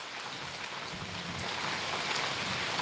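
Heavy morning rain pours down in a steady, dense hiss, with continuous close patter on surfaces and no voices.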